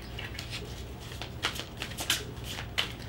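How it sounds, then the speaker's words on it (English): Tarot cards shuffled by hand in a quiet room, a steady papery riffle with several sharper slaps and flicks as the deck is cut and squared, close and clear. "All right, one more shuffle."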